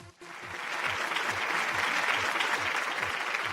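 A studio game show audience claps for a contestant's win, producing dense, even applause that starts abruptly and holds steady, with rhythmic low thumps from nearby hands.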